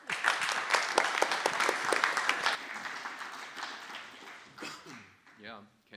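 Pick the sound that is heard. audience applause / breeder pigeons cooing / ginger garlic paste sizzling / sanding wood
audience applause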